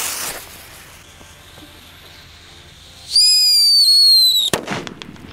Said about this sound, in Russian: Также у нас есть еще вот такие вот петарды, это Соловей-разбойник К1206